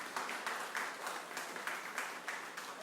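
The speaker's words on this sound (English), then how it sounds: "Round of applause for Alicia Morales." A crowd at a story night claps for a storyteller, a dense, even patter of applause that holds steady throughout with small rhythmic swells.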